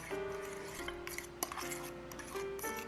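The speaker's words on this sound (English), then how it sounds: "Mix that to form a paste." Tomato paste is stirred with a metal utensil in a bowl, giving light repeated clinks and scrapes of metal against the dish, fairly faint and close.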